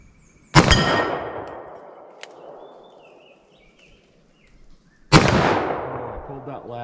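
Two heavy magnum revolver shots, .44 Mag and .357 Mag, fired single action about four seconds apart, each a loud close blast with a long rolling echo that fades slowly.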